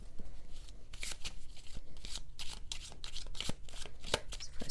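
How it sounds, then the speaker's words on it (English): Tarot cards being shuffled and pulled, a close series of crisp riffling and slapping bursts in an irregular rhythm, with no voice. "And now let's just pull some relationship cards."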